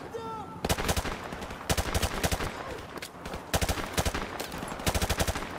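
Automatic weapon fire in a military shooter video game, repeated loud bursts of rapid shots in rhythmic clusters over a battle ambience.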